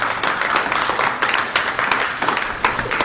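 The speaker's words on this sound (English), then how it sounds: "Let's give him another round of applause" Steady audience applause after a lecture by speaker Jordan Maxwell, dense continuous clapping from a large crowd at fairly close range, sustained without a break.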